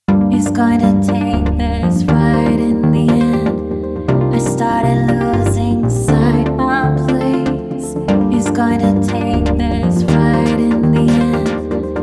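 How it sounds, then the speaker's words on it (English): A sung vocal drenched in reverb and delay rides over a full, loud music mix with steady chords and bass, the words echoing and trailing off into a wide, washy space. "I've added a bit of reverb and delay to the vocal"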